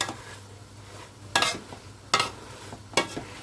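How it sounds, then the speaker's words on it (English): Saag cooking over high heat in a pan, with a soft steady sizzle and three sharp scraping, clattering bursts as a masher works through the greens; no voices. "We're just going to keep cooking this on a high heat."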